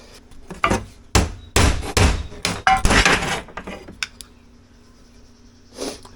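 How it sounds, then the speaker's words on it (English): An old oil seal being punched out of a BobCat engine with a hammer, a cluster of sharp metallic knocks and thunks in quick irregular succession, close and loud, then fading to quiet. "now that we've got our new seal, we want to punch out the old seal"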